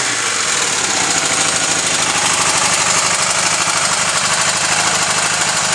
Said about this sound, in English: Pretty good sounding little bike.